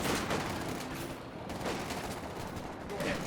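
Sustained rattling gunfire from a .50 cal machine gun in the video game Company of Heroes 2, a dense continuous barrage of loud overlapping shots with booms mixed in, steady throughout without pause.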